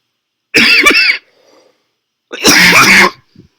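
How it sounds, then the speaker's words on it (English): Two harsh, loud coughs close to the microphone, separated by a pause of about a second. "Again, I apologize for the coughing"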